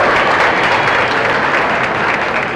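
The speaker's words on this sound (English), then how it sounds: "so a round of applause for Abby Falcone." Dense, loud applause from a crowd honoring a student award winner at a school team sports ceremony, sustained and even throughout.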